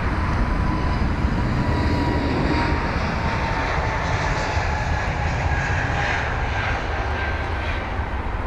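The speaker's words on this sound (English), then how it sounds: "Off into the sky that goes. Could imagine that aircraft being relatively light." A relatively light jet airliner departing London Heathrow's runway 27 right, a steady broad engine roar with a high whine, loud and continuous throughout without talk.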